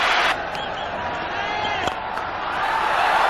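Cricket crowd at a 1996 World Cup match cheering a Sachin Tendulkar four, a loud roar that eases after the first moment into a sustained crowd din with whoops, partly under a commentator's voice.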